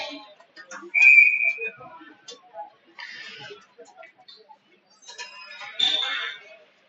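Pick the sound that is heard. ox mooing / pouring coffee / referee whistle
referee whistle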